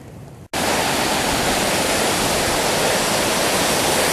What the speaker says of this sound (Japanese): アジの七滝ですね。